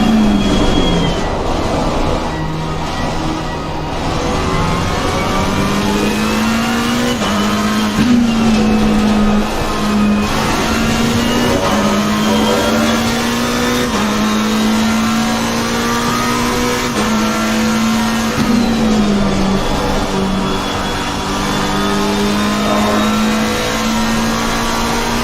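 Race car engines in Assetto Corsa Competizione during a 12-hour endurance race at Spa, a continuous loud engine drone rising and falling through gear changes, with another car's engine passing nearby over the long stretch.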